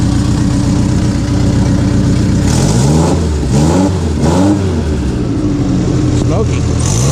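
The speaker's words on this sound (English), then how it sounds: "Let's see how it revs." A 1964 Fiat 600D with a 767cc engine and Supertrap exhaust is revved in a few rising and falling bursts over a steady idle, loud and close, with the rasp of the exhaust prominent.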